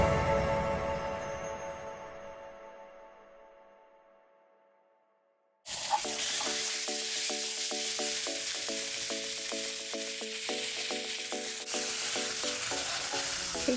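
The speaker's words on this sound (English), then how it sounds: "We are gonna fry our pork chops, and we do want it to get a nice golden brown." Pork chops fry in hot olive oil. After a quiet fading opening the sizzle starts loudly and holds a steady, close crackle, with pops and spatters running through to the end and no voices.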